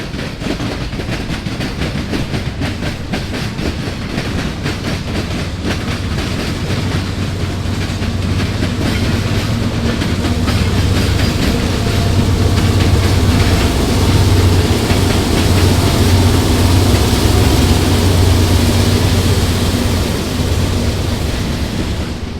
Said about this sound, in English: 9 locomotives on one train.